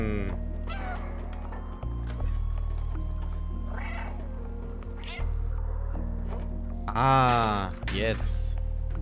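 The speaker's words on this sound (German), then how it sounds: "Wann soll ich miauen?" A cat meows repeatedly in the video game Stray, several close, clear mews spread across the stretch with a louder drawn-out cry near the end, over steady background music.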